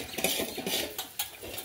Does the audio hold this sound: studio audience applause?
no